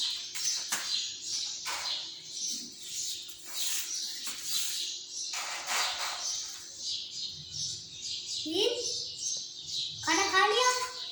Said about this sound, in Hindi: ये तोतों को हम देखते हैं।